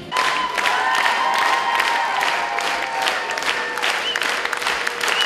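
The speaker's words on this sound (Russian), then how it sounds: "Завершающая блюзовая композиция сорвала самые громкие овации." A concert audience gives a loud ovation after the final blues number by a singer's band in Neftekamsk. Dense sustained clapping and cheering fill the hall, with scattered shouts and a few lingering sung or instrumental tones underneath.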